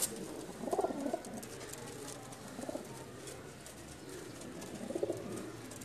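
Pigeons coo softly in a few separate bursts, faint and somewhat distant, over a noisy background hiss.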